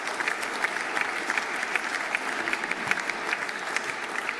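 Steady applause from a seated audience at a parliamentary ceremony marking a constitutional centenary, a dense patter of clapping that holds evenly throughout.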